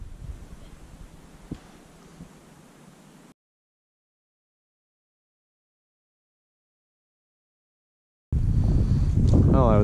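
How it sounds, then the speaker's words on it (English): Wind blows over Lake Huron during a springtime solo canoe trip, hitting the microphone as loud, rough rushing noise that cuts out into silence before returning strongly. "I was hoping the wind would die down a little bit, but that doesn't seem to be the case so far"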